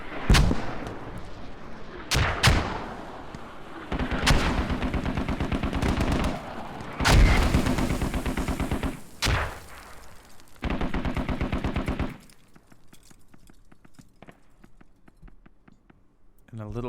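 Bursts of heavy gunfire and booming explosions in the military video game Squad, as a motorized infantry convoy is ambushed near a village. Loud volleys come in clusters, then give way to quieter rumbling near the end.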